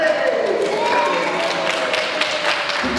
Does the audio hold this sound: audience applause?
yes